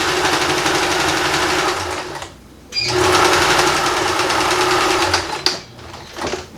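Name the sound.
sewing machine straight stitching recycled jeans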